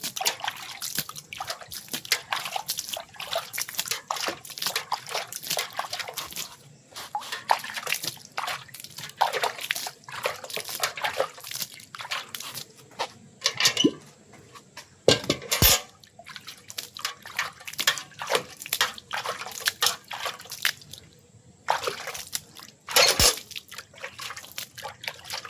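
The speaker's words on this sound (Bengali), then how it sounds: "আস্তে আস্তে আমরা সবকটি গাছে জল দেবো" Water poured slowly into potted gloxinia plants, soft intermittent trickles and drips with a few sharper splashes, close and fairly quiet, spread unevenly over the stretch with brief pauses.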